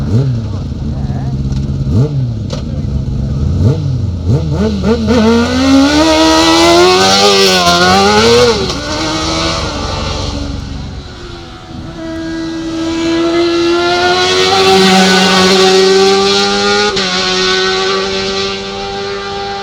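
An F2 sidecar racing motorcycle at the Barbon motorcycle hillclimb screams up through the gears nearby, with loud rising and falling engine revs, shifts and a sustained high-pitched howl as it passes.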